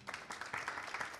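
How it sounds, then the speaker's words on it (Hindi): Applause for Krushna at a press conference for a song release, a brief run of scattered clapping that sounds fairly faint and distant, with no voices over it. "एक बार जोरदार तालियां हमारे प्यारे भाई कृष्णा के लिए."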